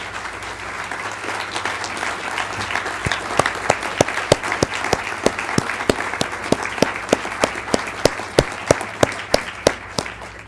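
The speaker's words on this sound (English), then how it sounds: "have you acknowledge them with a round of applause." A crowd applauds steadily for about ten seconds, a dense wash of clapping with a few sharper, louder claps standing out near the front.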